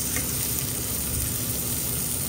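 Bean sprouts stir-fry in a hot pan, giving a loud, steady hiss and sizzle that runs without a break and has no voices over it.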